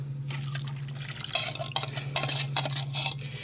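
Golden mushroom soup and water being stirred in a pan, soft liquid sloshing and scraping with small clinks, fairly quiet with a steady low hum underneath.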